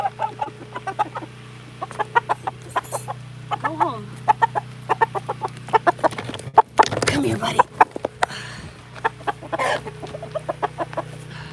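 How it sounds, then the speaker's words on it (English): A backyard chicken clucks near a tree in short, sharp, repeated bursts. A person calls to the bird and talks over the steady clucking. "This is the only chicken that is handleable."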